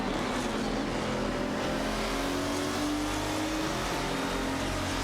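In an AI racing video game, an Aston Martin DBR9 duels a TVR Speed 12 GTS, and a steady engine drone fills the air, its pitch slowly rising as the cars accelerate, loud and unbroken, with no voices.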